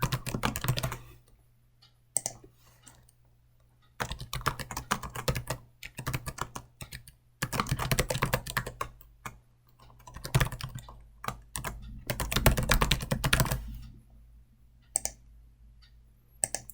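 Bursts of typing on a computer keyboard with rapid clicking keystrokes, close and clear, broken by short pauses, with no talking.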